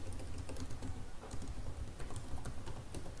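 Rapid, irregular keystrokes clatter on a computer keyboard as text is typed, close and moderately loud, with short pauses between bursts.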